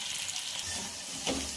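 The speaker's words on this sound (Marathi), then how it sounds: "अशाच पद्धतीने आपण बाकीची सुद्धा राहिलेली भजी फ्राय करून घेऊया" Cabbage bhaji fritters sizzle in hot oil, a soft continuous frying hiss with a brief louder bubbling burst near the end, faint and close.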